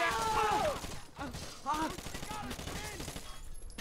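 Gunfire in the video game Osiris: New Dawn, heard as bursts of shots under and between voices, with a person shouting over the fight throughout.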